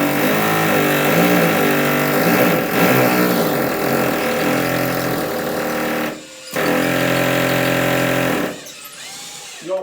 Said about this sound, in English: you can use the tile bit to drill in